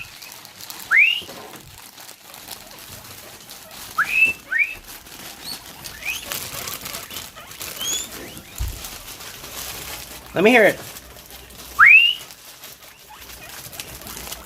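Pet guinea pigs give short, high, rising wheeks at scattered intervals as a food bag is crinkled, several squeals standing out over faint rustling and a brief spoken line.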